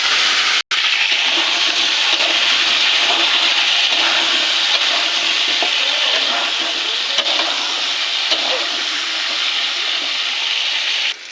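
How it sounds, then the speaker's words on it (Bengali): Potatoes and cumin seeds hit hot oil in a wok, giving a loud, continuous hissing sizzle that carries on evenly, with one brief break near the start. "এবার কড়াইতে তেল দিয়ে দিয়েছি। দিয়ে দেবো জিরে ফোড়ন, দিয়ে দেবো আলু,"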